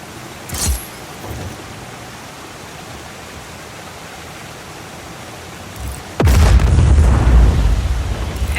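Rocket explosions in the game Just Cause 4: a sharp whoosh and faint pop early on, then a loud, rumbling blast that lingers as a broad roar.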